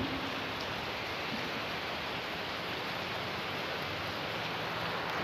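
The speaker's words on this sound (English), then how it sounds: "for the rain in the background" Steady rain hisses evenly throughout, a dense wash of patter with no voices over it.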